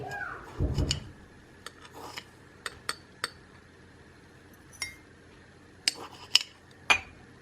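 A metal spoon scoops Nescafe Gold instant coffee into a drinking glass, making a scattered series of light, bright clinks and taps spread out over several seconds, with quiet stretches between them.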